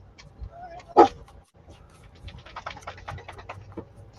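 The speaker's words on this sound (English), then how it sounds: "Sorry for the dog noise." A pet dog at home makes a sharp bark followed by quick panting breaths and small whimpering yips, close and moderately loud in a quiet room.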